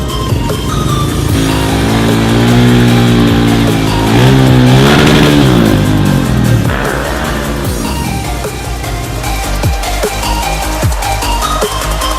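A KTM motorcycle engine, a RC 390 or Duke 690, revs hard during a stunt with a big fat rear tire, rising and falling in loud close sweeps before settling into a rough idle.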